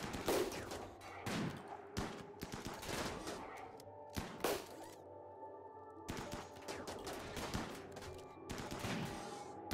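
Shotgun gunfire in the RimWorld video game, with repeated bursts of shots and overlapping fire, fairly loud and close, alone without talk.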